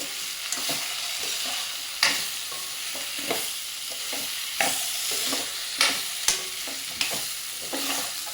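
Spoon stirring eggplant and potato pieces through masala in a hot pan for a Khandeshi vegetable dish, steady scraping strokes with sharper clanks against the metal over a continuous sizzle, close and alone.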